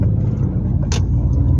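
Car pulling away from a junction during driver training in Turkey, a loud, close low engine rumble that stays steady throughout, with a brief click near the middle.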